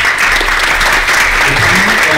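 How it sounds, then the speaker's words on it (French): Conference audience at a panel on e-sports and journalism breaks into applause, a loud, sustained wash of many hands clapping close by, steady from start to finish. "merci à tous les deux, on peut les applaudir"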